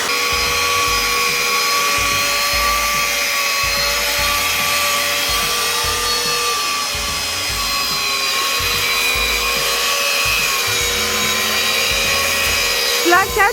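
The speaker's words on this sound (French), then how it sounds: "Là, Kat, il est en train de poncer et tailler ce bois-là pour renforcer ici" Power tools sand and cut wood and white stone during a load-bearing wall renovation, giving a continuous loud whining, grinding drone with steady rasping texture across the whole stretch and no pauses.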